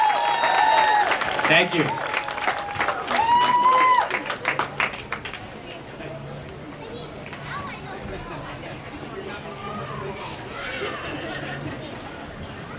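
An outdoor crowd at a community day applauds the crowned queen and king, a steady spread of clapping that starts under a voice and then fades out, with a brief thank-you spoken and background chatter.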